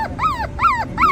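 Small puppies whimpering in three repeated high, wavering whines that rise and fall, each about a third of a second, close and fairly loud with no talking.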